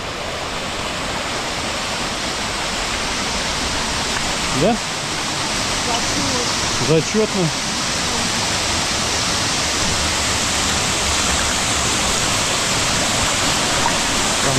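A waterfall on the Mras river roars as steady, loud broadband rushing water throughout, with brief voices speaking over it midway.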